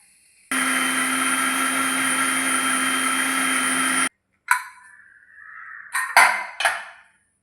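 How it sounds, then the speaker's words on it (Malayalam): A mixer grinder runs loud and steady for about three and a half seconds, grinding shallots, cumin, turmeric, green chilies and curry leaves into a paste for a Kerala-style curry, then stops, followed by a whine and several clinks of the jar and lid. "ഇനി നമുക്കിത് നന്നായി അരച്ചെടുക്കാം"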